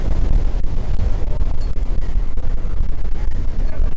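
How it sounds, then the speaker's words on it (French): Strong wind roars steadily and loudly across a microphone outdoors at a Belgian fishing competition weigh-in near Preston, a dense low rumble buffeting without pause throughout. "On essaye d'avancer malgré le vent."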